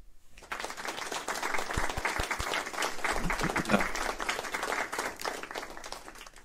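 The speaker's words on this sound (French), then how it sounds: "je lance un applaudissement" A recorded applause sound effect played during a French presentation on technical SEO: crowd clapping swells in after a brief silence and continues densely, with a few low thumps and some faint speech underneath.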